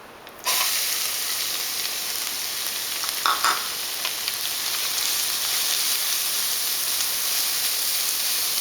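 Grated carrot stir-fries in a hot pan with red chilies and cumin seeds, giving a sudden, continuous bright sizzle and hiss that holds steady, with a brief scrape of stirring partway through.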